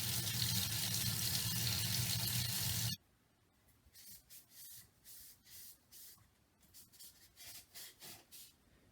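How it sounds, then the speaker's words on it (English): A steampunk trench club is wet-sanded with sandpaper in a sink: a loud rushing tap runs first, then stops, followed by a series of rhythmic scraping strokes, about a dozen, close and distinct. "stick it in the sink and just start wet sanding it with some sandpaper"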